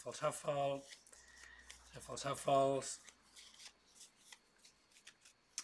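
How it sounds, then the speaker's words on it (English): Action and Blackmail decks of cards for the Evil Corp board game are shuffled by hand, giving quick riffling bursts and soft rubbing near the microphone between and under bits of talking. "I shuffle the Evil Corp action deck, and I'm also going to shuffle the Blackmail deck a little bit"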